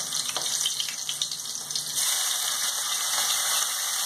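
A medium onion goes into a pan of hot oil after fried fish, and the loud, steady frying hiss swells partway through, continuing as a bright, constant sizzle.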